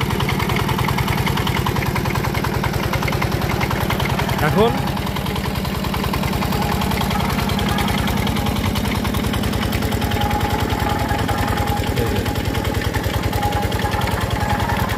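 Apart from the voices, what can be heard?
gear system of biogas plant turning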